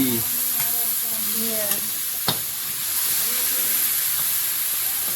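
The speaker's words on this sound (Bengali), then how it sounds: "চিংড়িটাও হালকা করে ভেজে উঠিয়ে নেবো" Shrimp fry lightly in hot oil in a home kitchen, giving a steady, close sizzle and hiss with a few soft clicks and no talking.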